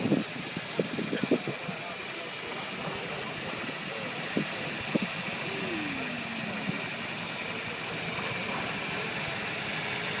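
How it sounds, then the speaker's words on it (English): A turbo diesel vehicle idles with a steady, low, even rumble while someone talks over it nearby. "That is a turbo diesel."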